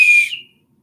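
A single short, shrill blast from a small survival kit whistle sounds up close and loud, then cuts off abruptly into silence.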